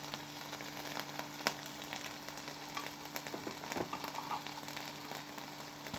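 Ginger garlic paste and turmeric fry in a pan with a steady, close sizzle and scattered crackling pops, plus an occasional scrape of stirring.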